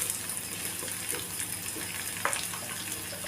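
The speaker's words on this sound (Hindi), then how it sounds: "तेल अब गर्म हो चुका है तो तेल में हम डाल देंगे 1 चम्मच कसा हुआ अदरक। अदरक को कुछ सेकेंड भून लेंगे" Grated ginger frying in hot oil, a faint steady sizzle with a soft hiss and a few small pops, heard alone without talk.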